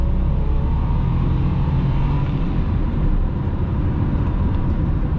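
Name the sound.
1996 Nissan Maxima accelerating at full throttle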